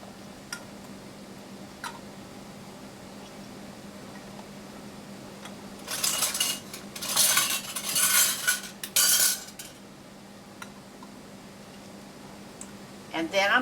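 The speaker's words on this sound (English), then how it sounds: "I'm going to put the new lids on them." New metal lids set onto glass canning jars of home-canned tomatoes make a cluster of clinking, tapping metal-on-glass sounds in the middle, close and moderately loud, with quiet pauses around them.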